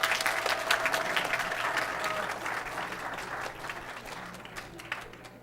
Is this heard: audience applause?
yes